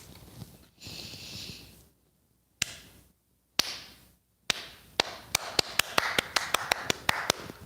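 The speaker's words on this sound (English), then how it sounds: "Slow clap. Slow clap." Slow, deliberate clapping: single sharp claps spaced apart at first, then a steadier run of about a dozen claps in the second half, close and fairly loud against a quiet background with a soft breath near the start.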